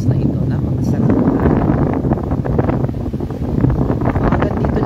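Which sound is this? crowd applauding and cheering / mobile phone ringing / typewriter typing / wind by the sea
wind by the sea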